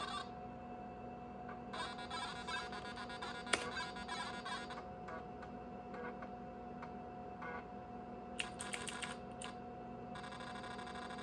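Keys clatter on the keyboard of a Nan Tan 8100 386 laptop in quick irregular bursts of close tapping, with pauses between, over a steady electrical hum.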